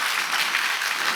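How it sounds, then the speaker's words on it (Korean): A church congregation claps together in a dense, loud, sustained burst of applause filling the room. "박수 치려면 세게 치라고"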